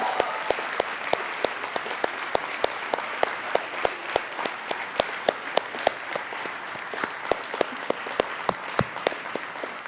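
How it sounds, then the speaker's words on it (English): An audience at a university convocation claps steadily, with distinct individual claps standing out over a moderate, continuous patter of applause. "a big round of applause to Dean Aniha Brar and Director Karan Bhola"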